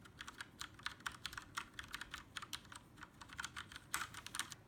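Keys on a KinesisGaming Freestyle Edge keyboard are typed and pressed all the way down, giving a fast, uneven run of sharp, close clacks with no voices.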